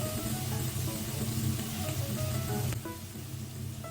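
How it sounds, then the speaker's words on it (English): Seafood and dried shrimp stir-fried in a pan for yam fried rice give off a soft, steady sizzle that stays fairly quiet and continuous, with no talking. "Stir fry everything until they are cooked through."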